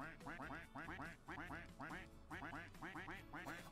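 Many ducks in the Roblox game Duck Army quacking in rapid overlapping bursts, grouped in repeating clusters about every half second, loud and continuous with no talking.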